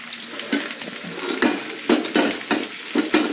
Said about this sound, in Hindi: तब तक हमारा ये कटहल फ्राई हो रहा है